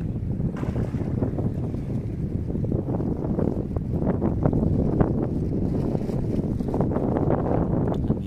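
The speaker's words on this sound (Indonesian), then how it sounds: "anginnya sudah lumayan kencang" Strong wind buffets the microphone out on the water from a fishing boat, a steady loud roar with gusty rumbling and faint splashing throughout, no voices heard.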